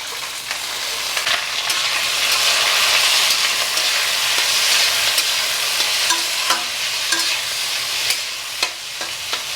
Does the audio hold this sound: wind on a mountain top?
no